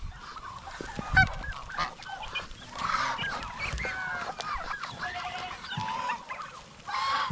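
Several geese honk repeatedly on a farm in a busy, overlapping chorus of nasal calls at moderate distance, with other fowl nearby and no talking.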